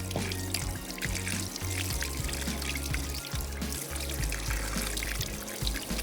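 Clean tap water runs over freshly curdled milk to rinse away the lemon sourness, a continuous close pour with shifting splashes and gurgles that lasts throughout, with no speech.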